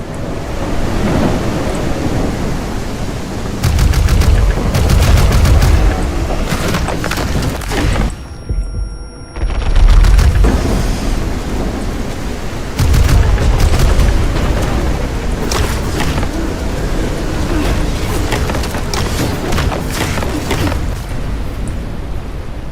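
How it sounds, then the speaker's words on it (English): Heavy storm in the biopunk roguelike Crete, with rumbling thunder booms and a dense roar of rain and wind that fills the whole stretch, briefly cutting out midway before surging back loud. "Yeah, the storm got some issues there."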